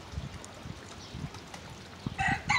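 Hens clucking softly in short irregular bursts, with a louder squawky cackle near the end over faint outdoor background noise.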